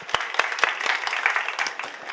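A church congregation claps together in a brief, moderately loud burst of applause, with scattered individual claps under a dense wash of hands.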